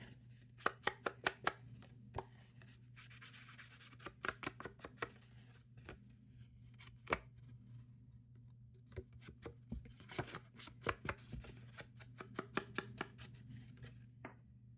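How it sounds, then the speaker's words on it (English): Scissors snip through paper journal tags at a craft table, a quick series of sharp close cuts in irregular bursts with pauses, over a faint steady hum. "I think what would be cute is to cut one of these out"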